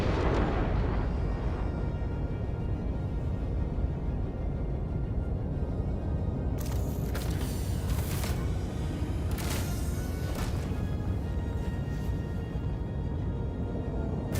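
A space video game torpedo launch and explosion: a heavy sustained rumble fills the whole stretch, with sharper bursts of blast noise near the end.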